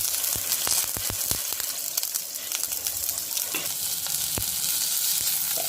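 Mustard seeds, onions, curry leaves and asafoetida fry in hot oil with a steady close sizzle, broken by sharp crackles and spoon scrapes against the pan; no voices.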